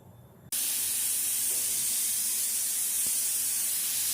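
A pressure cooker whistle on a home kitchen stove suddenly bursts into a loud, steady, hissing rush of escaping steam, continuing unbroken after a quiet start.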